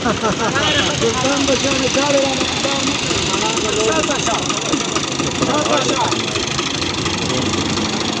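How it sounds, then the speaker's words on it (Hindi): A tractor engine chugs without pause as the tractor is loaded onto a truck, a loud mid-pitched drone under constant chatter and shouting from nearby people. "ट्रक पर ये चढ़ रहा है, ट्रैक्टर लोडिंग की जा रही है।"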